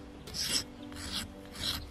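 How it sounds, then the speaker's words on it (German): Three rough, scraping strokes of a rasp filing soapstone into shape, each a short gritty rub close to the microphone with brief pauses between. "Ich kann dann die grobe Form mit der Raspel bearbeiten"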